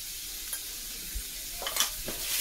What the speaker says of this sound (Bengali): পেঁয়াজটা ভাজা ভাজা হচ্ছে এখন